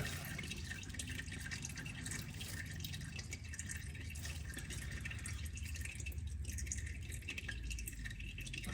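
Engine oil draining steadily from a Vauxhall Mokka 1.6 CDTi during a DIY service, a continuous close trickle and drip into a pan that runs unbroken throughout with no talking.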